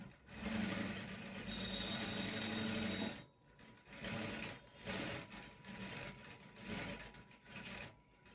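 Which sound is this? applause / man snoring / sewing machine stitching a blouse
sewing machine stitching a blouse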